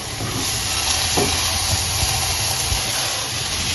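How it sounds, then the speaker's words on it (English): Sprouted babbarla mix is stirred in a hot pan, a steady loud sizzle and hiss with soft scraping of the spoon underneath, close and continuous. "Now let us mix it again."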